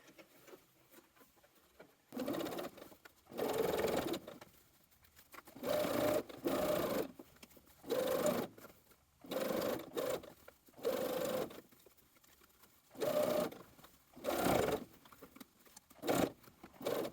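Short bursts of a sewing machine understitching a seam allowance onto a garment facing, rapid steady stitching runs of one to two seconds separated by quiet pauses, fairly faint and with no talk.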